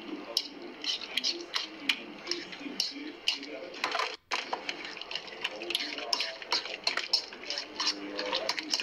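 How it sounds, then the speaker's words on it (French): Fork mashing and stirring food in a bowl at home, producing repeated scraping, tapping clinks and soft squelches in an uneven rhythm, close and moderately loud, with a brief pause midway. "vous allez venir prendre donc votre fourchette et appuyer tout mélanger"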